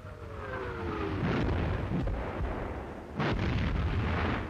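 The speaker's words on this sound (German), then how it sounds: "Unsere Artillerie beschießt eine sowjetische Beobachtungsstelle in einer Häuserruine." Artillery shelling a Soviet observation post set in a ruined house, heard as continuous heavy rumbling bursts and booms, loud and sustained with a fresh surge of blasts near the end, no voices.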